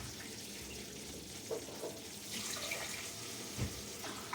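Hot water runs from a kitchen tap to make sugar syrup for Aleppo-style mamounia, a steady gushing flow with a few splashes and clinks of a container, close and moderately quiet.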